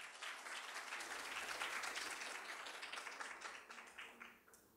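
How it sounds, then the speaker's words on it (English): An audience at a KOICA-JICA forum presentation applauds with steady, even clapping that swells slightly and then tapers off toward the end. "Please give her a big round of applause."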